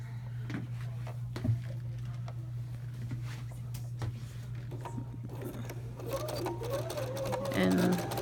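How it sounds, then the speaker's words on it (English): A Bernina sewing machine runs a line of top stitching on fabric and mesh, a steady close mechanical whir that speeds up toward the end, with someone talking over it. "we're going to do a top stitching"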